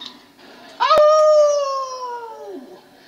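A battle rapper imitates a wolf howl with his voice, one loud sustained "awoo" that rises sharply and then slowly falls, preceded by a brief sharp click.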